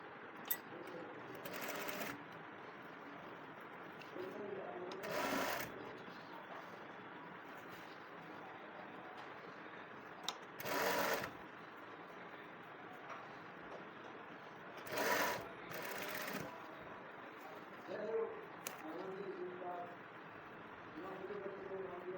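Sewing machine running in short separate bursts while a shirt button placket is stitched, a steady whirring run with gaps between passes, close and moderately loud over faint room background.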